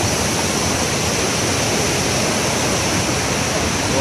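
The waterfall at the Devil's Throat roars as a dense, unbroken wall of rushing water, loud and steady with drizzling spray in the air, and no clear talk over it.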